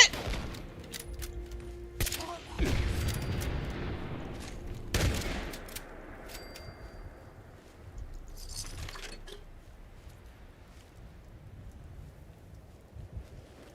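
Gunfire in Fallout 76: a few sharp, loud shots within the first five seconds, with clinking, glassy debris after them, then quieter ambience and a few scattered clicks and rattles.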